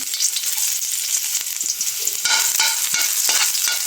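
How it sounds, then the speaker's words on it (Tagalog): Garlic sizzles and fries in hot cooking oil in a pan, a dense steady crackle close by with scraping stir sounds throughout. "Magpainit lang tayong mantika. Tapos, ganyan. Ipisok natin yung bawang."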